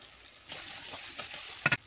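Potatoes frying in a spice masala in oil, with a soft sizzle that grows louder as they go in, plus a few sharp clinks and scrapes near the end, close and fairly quiet.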